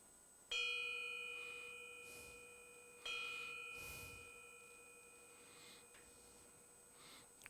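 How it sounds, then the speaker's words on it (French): Two clear bell chimes ring out to mark the end of a Sunday meditation session, each a bright sustained tone that slowly decays, the pair spaced about two and a half seconds apart in a quiet room. "Quand il y a deux sons de cloche comme ça signifie que c'est dimanche et que nous sommes arrivés au bout"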